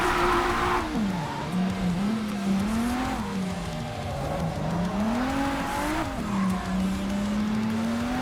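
In the video game JDM, a car slides through a drift with a loud, continuous engine whine that rises and falls, and tire squeal breaks out briefly near the start and again later on.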